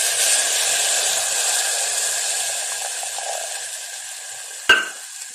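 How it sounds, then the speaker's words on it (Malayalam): Soaked tamarind water poured into a pan of fish curry with coconut milk sets off a loud, steady hissing sizzle that slowly fades, broken near the end by one sharp utensil clack. "പുളിവെള്ളം ഇതിലോട്ട് ഒഴിച്ചു കൊടുക്കണം."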